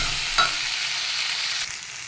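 Vegetables are stirred and fried in a pan on an induction stove while cooking a dish to eat with roti; a steady close sizzle runs throughout, with a brief scraping stir near the start and another toward the end, no talk.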